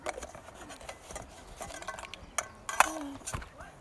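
A small spatula and other kitchen utensils are handled and stowed inside a minivan at a dispersed campsite, giving scattered clinks and clatters, with one sharper metallic chink near the end, all fairly quiet.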